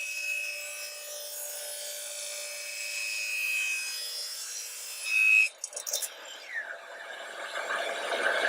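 Sandpaper of 36 grit rubbing the inside of a fiberglass gutter section, a steady harsh scraping that runs continuously, then turns into shorter, uneven strokes and rubs near the end.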